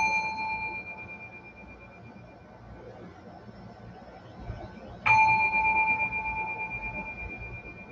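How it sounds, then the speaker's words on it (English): A meditation bell rings twice with a long gap between strikes, each a clear pure tone that fades slowly, the second strike louder, in a quiet room with no voices. "The bell will ring twice to end the meditation."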